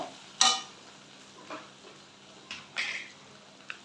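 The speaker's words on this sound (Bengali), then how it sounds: "এবার খানিকটা রসুন বাটা আর আদা বাটা একসাথে দিয়ে আমি ভাজবো" Garlic and ginger paste go into a pan to fry, heard as a faint low hiss with a few sharp scrapes and clinks of a utensil spaced over a few seconds.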